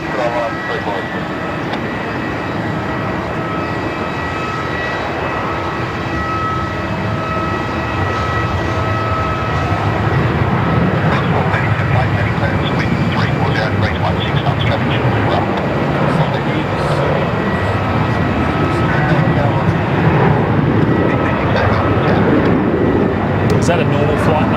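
Airplane lining up and departing runway 34 at Melbourne Airport, a steady engine roar that builds louder midway, heard under ongoing talk.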